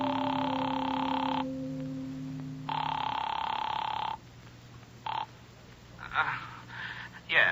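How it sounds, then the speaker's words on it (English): An old-fashioned telephone bell rings in long bursts on a line in a cigar store phone booth, two clear rings with a pause between, followed by fainter clicks and a brief voice-like sound near the end. "The phone rang a long time before he answered."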